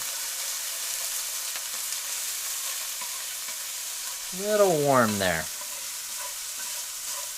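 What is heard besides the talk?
garlic sizzling in a pan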